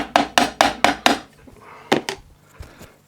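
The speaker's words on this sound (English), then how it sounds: "I'm just going to tap it gently with this hardwood." Hardwood block gently tapping the case of a Burgess Powerline BBS-20 Mark II bandsaw during restoration, a rapid series of five close, sharp knocks followed by a few more spaced, softer taps.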